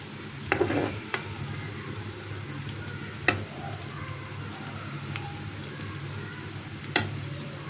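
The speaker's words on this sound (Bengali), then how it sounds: "পেঁয়াজের বেরেস্তাটা আমি হালকা বাদামি রং করে ভেজে নিচ্ছি" Onions for chicken korma fry quietly in oil, giving a soft continuous sizzle broken by a few sharp clinks of a utensil against the pan.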